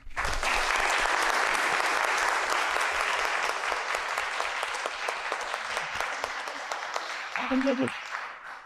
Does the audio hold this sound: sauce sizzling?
no